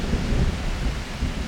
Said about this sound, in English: at least we've got front row tickets to all the thunderstorms that keep on rolling past our windows